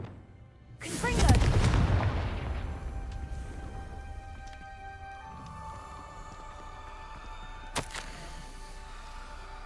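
A Confringo fire spell from Hogwarts Legacy bursts with a loud, booming explosion and a roaring, crackling tail that gradually fades, followed by a lighter sharp pop a few seconds later over ambient game sound.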